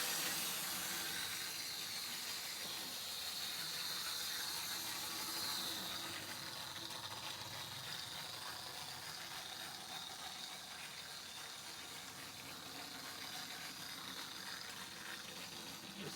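Metro Cammell lightweight DMU model train in OO gauge running slowly on a tight-radius tiny loop, a faint continuous whirring hiss of the motor and wheels, no talk.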